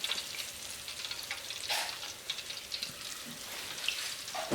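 Whole crappie frying in hot grease heated to around 350 degrees, a steady crackling sizzle with bursts of popping spatter, close and continuous with no talk.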